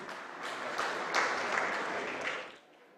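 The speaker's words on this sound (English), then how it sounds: "Can we give them a big round of applause, please?" Audience at an Under-23 World Squash Championship opening ceremony applauding the Malaysian team, a brief burst of moderate crowd clapping that holds for about two seconds and then fades quickly.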